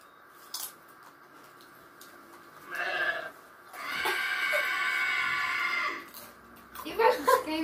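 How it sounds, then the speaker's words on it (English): A goat in the video game Goat Simulator screams in loud, drawn-out bleating bursts, one short and one long, with a person talking around them. "You guys are screaming goat"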